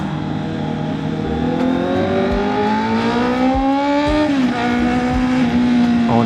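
A Honda CB650R middleweight motorcycle accelerates hard to overtake, its engine note rising steadily in pitch over several seconds, dipping briefly at a shift, then climbing again, loud and close with steady wind rush and no talk.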